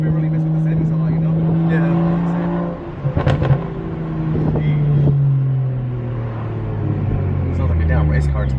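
Loud exhaust from a BMW 335i N54 engine drones nearby, dropping in pitch with a brief crackling burst midway, then settling into a deep rumble as it slows.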